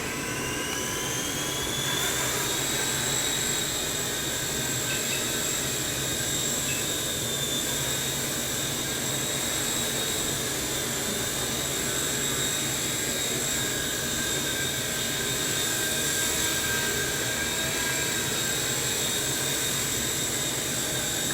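A small T-REX 100S RC helicopter lifts off and flies, its electric rotor producing a steady, high-pitched whine that rises slightly in pitch early on and then holds loud and close throughout.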